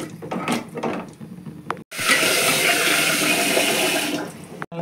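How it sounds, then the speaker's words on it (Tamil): Water pours into a pan of fish curry in a steady, close rush that runs for a few seconds after some brief clatter. "அளவு தண்ணி ஊற்றிக்கலாம்."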